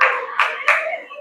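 Audience clapping at a parenting talk in an elementary school hall, two short bursts of applause rising over a steady background of crowd noise and murmur.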